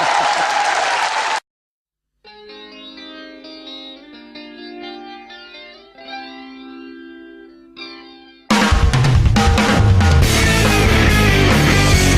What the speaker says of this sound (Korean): 정청래 의원한테 박수 주십시오.